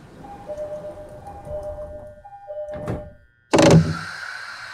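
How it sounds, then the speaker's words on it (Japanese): E217 commuter train doors closing on the Yokosuka Line in a JR East train simulator game: a steady tone and quiet hum, a brief hiss, then a loud solid thunk as the doors shut. "ドアが閉まります。"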